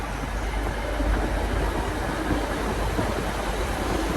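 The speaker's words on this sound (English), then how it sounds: "this is our next train here now, new one, 195, and we're going all the way to Chester with it" A British Rail Class 195 passenger train on the Borderlands Line running steadily with a constant loud rumble and rolling wheel noise, heard from on board without speech.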